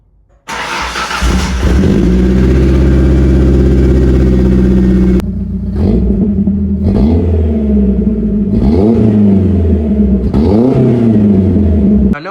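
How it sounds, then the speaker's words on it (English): A Ford Ranger pickup fitted with a new boom-tube exhaust cranks and fires on a cold start, settling into a loud, steady idle before several sharp revs rise and fall, close and alone. "I think it's time for a cold start."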